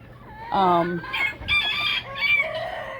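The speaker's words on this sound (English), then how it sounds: "So these are mostly hens. 4 of them are chicks that are only maybe 3 months old." Hens and three-month-old chicks cluck and call close by in a backyard flock, with several overlapping tonal squawks and chirps in a busy burst.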